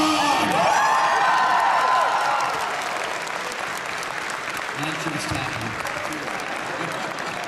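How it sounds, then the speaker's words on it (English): A large convention panel audience screams, cheers and applauds for Asgard at a Chris Hemsworth Thor session at C2E2, a loud sustained roar that eases slightly after a couple of seconds but keeps going throughout. "Can you scream for Asgard really loudly for me?"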